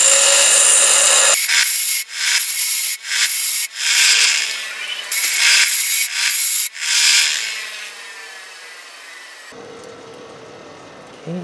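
Harsh, loud grinding on a metal rear motor mount part for a WR250E, fabricated on a QS138 build, comes in repeated strokes with brief gaps and then tapers into a fading whine.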